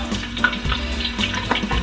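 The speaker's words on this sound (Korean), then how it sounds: "꼴뚜기 큰 것은 하나씩 튀기고" Small squid (kkolttugi) deep-fry in hot oil, a continuous close bubbling sizzle with soft crackles and small pops throughout.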